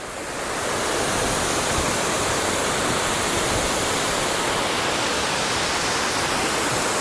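Dess Waterfall in Aberdeenshire, Scotland, running full after rain, heard from someone standing in the river: a loud, steady, close roar of rushing water that never lets up, with no voices.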